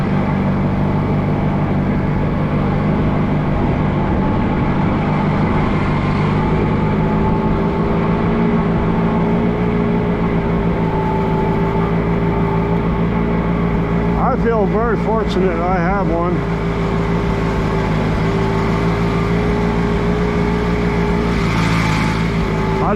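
An Allis Chalmers G tractor engine runs steadily at close range while driving through snow, a constant low drone throughout, with someone talking over it.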